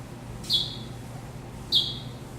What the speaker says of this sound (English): you might be hearing a bird chirping.